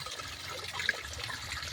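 Water rushing steadily along a stream near a waterfall, a continuous close splashing flow with no voices.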